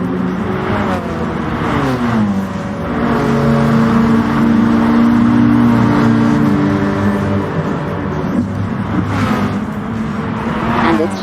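Race car engines in Gran Turismo Sport, a loud sustained droning roar with rising and falling pitch as the car accelerates and shifts through chicanes, other cars' engines mixed in, with a voice talking over it.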